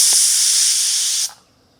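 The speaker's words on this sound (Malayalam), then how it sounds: "അങ്ങനെ നമ്മൾ കുക്കറിൻ്റെ മൂടി തുറക്കാൻ പോവുകയാണേ." Steam hisses loudly and steadily from a pressure cooker of sweet potato as the lid is opened, then drops abruptly to a faint residual hiss for the final half second.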